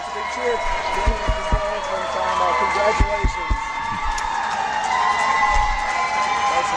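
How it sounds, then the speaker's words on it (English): A crowd cheers and murmurs steadily in a large hall at a world puzzle championship pairs final in Valladolid, with scattered thumps and bounces breaking through the broad noisy roar. "So what you're hearing is cheering for those people specifically."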